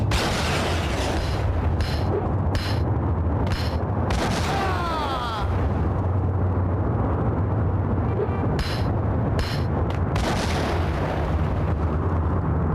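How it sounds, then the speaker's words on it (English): A grenade blast in the Max Payne video game, a heavy, loud boom among dense gunfire and explosive bursts, with several sharp cracks and a continuous rumbling din that runs throughout. "I'm dropping a grenade on these idiots."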